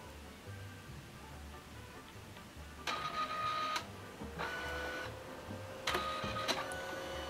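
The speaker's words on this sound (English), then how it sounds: "you're going to start to hear the printer and the paper" A Liene photo printer feeds paper and prints with faint background hum, then several loud mechanical whirring bursts of about a second each, close by and without speech.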